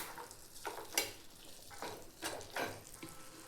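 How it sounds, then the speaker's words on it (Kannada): A spoon stirs a spiced black-eyed pea curry in a pan. Soft scraping strokes repeat in an uneven rhythm over a low, steady sizzle, quiet and close, with no talk. "ಇದನ್ನೆಲ್ಲ ಮಿಕ್ಸ್ ಮಾಡ್ಕೊಳ್ಳೋಣ."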